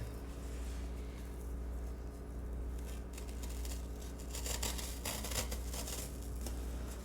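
Scissors cut a craft paper shape, giving quiet, irregular snips and rustles over a steady low background hum, with the cutting growing busier in the second half.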